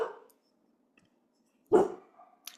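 A pet dog barks indoors, with one short bark at the start and a louder, nearer bark later, followed by a fainter yelp, amid quiet gaps.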